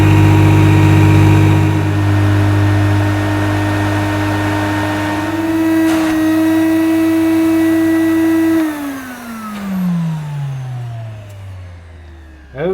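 A Hoover Aquajet S4488 multifunction vacuum cleaner runs with its solution pump working, a loud steady motor drone with a layered whine that then powers down and winds away into near silence.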